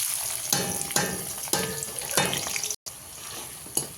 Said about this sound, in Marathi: लाल होईपर्यंत असा कांदा हलवून घ्यायचा आहे